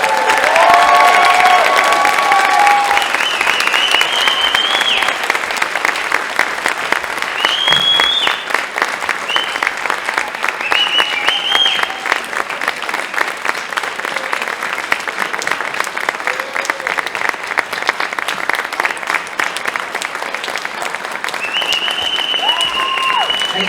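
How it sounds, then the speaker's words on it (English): A crowd at a December nursing BSN pinning ceremony applauds for the graduates in long sustained clapping, with scattered cheers and whoops rising over the steady roar, fairly loud and close. "Another round of applause for our graduates."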